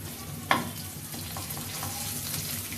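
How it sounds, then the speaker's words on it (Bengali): A teaspoon of shrimp paste fries in hot oil for a Thai green curry, giving a steady low sizzle with a single sharp click near the start. "শ্রিম্প পেস্টটা এরকম তেলে একটু সুন্দরভাবে ভেজে নেওয়া লাগে"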